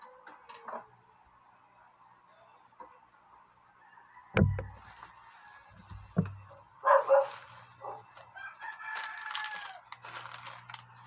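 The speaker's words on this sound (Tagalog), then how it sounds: "maingay kasi ano yung aso, may tao" A few scattered dog barks sound at a distance amid outdoor background noise, with some honking fowl-like calls mixed in.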